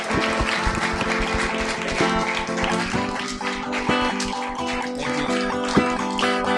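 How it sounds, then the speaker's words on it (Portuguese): A church congregation applauds over loud sustained music, the clapping a dense wash partly masked beneath the steady sound. "Meu Deus, quantos podem aplaudir?"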